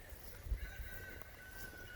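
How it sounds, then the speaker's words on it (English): A rooster crows outdoors on a rural morning, a faint drawn-out call at a distance under low background rumble, with a soft cluck or two. "I hear a rooster crowing."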